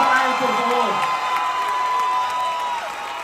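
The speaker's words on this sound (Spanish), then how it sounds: "¡Fuerte aplauso para él, por favor!" A theatre audience cheers and applauds loudly and steadily, with shouts and voices mixed into the continuous clapping.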